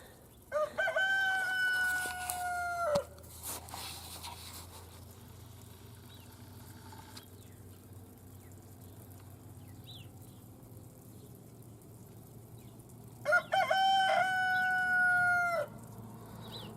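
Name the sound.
rooster crowing in the middle of the day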